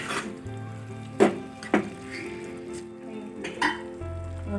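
Onion curry seasoned with rock salt gets stirred by hand in a pan, with a low sizzle under several distinct scraping strokes and clanks of the spoon against the pan, spaced irregularly, with no speech.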